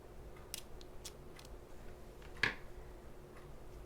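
Scissors cut crochet yarn at the end of a crocheted jellyfish piece: a single short, close snip in an otherwise quiet room.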